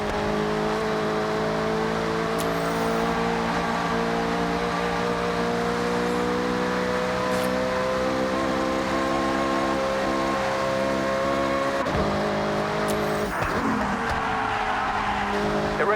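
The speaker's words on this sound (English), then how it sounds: "Get ready to blast those engines." Race cars in Forza Horizon 6 roar with steady, loud engine drone throughout, with tire squeal and shifting pitch as the engines strain, a sharp change near the end.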